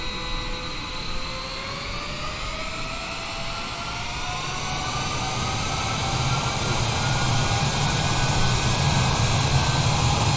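Airliner jet engines spool up for a takeoff roll at Denver in the Flight Simulator 2020 game, a rising whine over a broad, growing rush of roar that swells steadily louder over ten seconds with no talk.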